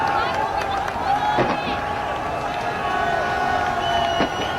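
A loud crowd in Mumbai celebrates India's 2011 Cricket World Cup win, a dense continuous roar of cheering and shouting voices with occasional sharper bursts, heard at a distance from within the throng.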